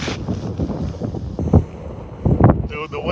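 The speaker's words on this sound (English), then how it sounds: "wind always just makes such a mess" Strong wind buffeting a fishing boat, with gusty rumbling microphone noise and sharper bursts at moments; loud and close throughout, and a voice is faintly present.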